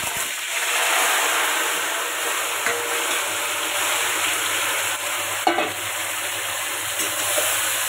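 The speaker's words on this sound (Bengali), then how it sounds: "এবার যে মাখানো মাংসটা মাখিয়ে রেখেছি ওটা ঢেলে দেবো।" Marinated duck meat sizzles in hot oil seasoned with whole cumin, bay leaf and dried red chillies, a continuous loud frying hiss with occasional stirring knocks, no talking.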